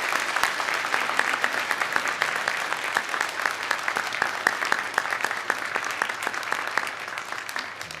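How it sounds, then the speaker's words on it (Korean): A church congregation applauds visiting missionaries during a Sunday worship service, steady dense clapping from a large crowd sustained for the whole stretch without pause. "우리 인사할 때 우리 박수로 축복해 주시기 바랍니다"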